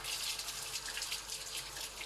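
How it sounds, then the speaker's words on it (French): Very hot water runs steadily from a tap, a continuous hissing splash with no pauses, fairly close and moderate in level, while soap is made with caustic soda and Sommières earth, and no one speaks. "De l'eau bien chaude."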